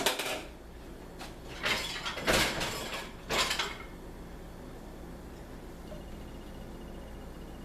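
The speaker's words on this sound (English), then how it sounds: "You still should empty the dishwasher, though." Emptying a dishwasher produces a few close bursts of clattering plates, cups and cupboard sounds in the first four seconds. After that it goes quiet, leaving only a faint low hum.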